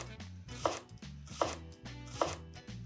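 A knife chopping red onion on a cutting board, four evenly spaced crisp thuds about a second apart, close and clear with no talk.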